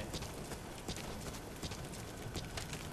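Rhythmic clip-clop of horse hooves trotting steadily in the video game Metal Gear Solid V, with a synthetic, game-like quality and no talking.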